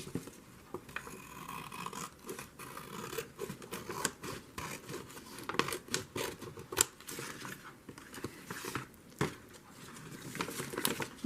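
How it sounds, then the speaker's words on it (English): Scissors cut the bottom off a brown paper bag being made into a journal: crisp, irregular snips and crinkly rustles of stiff paper, close and fairly loud, with no talking. "So I have to cut off the bottom."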